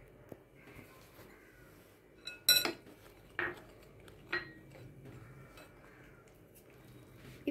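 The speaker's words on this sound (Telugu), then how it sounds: "ఇప్పుడు ఈ చికెన్ని కార్న్ ఫ్లోర్ని ఈ ఆల్ పర్పస్ ఫ్లోర్ని కలిపేద్దాం" Chicken being mixed with corn flour and all-purpose flour in a bowl, heard as sparse clinks and scrapes of a utensil against the dish, with quiet pauses between them.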